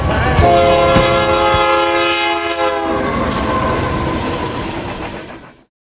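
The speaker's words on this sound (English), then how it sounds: "we see a BNSF train reversing into BNSF Cherokee Yard" A BNSF freight train backs into Cherokee Yard in Tulsa, its horn sounding long and loud over the steady rumble and clatter of the rolling cars before the sound cuts off.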